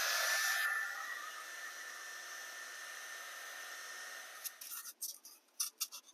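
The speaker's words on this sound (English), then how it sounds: "Now the heat gun." Heat gun used on model railroad scenery. A quiet, steady airy hiss runs for about four seconds and fades, followed by scattered light clicks and rustles.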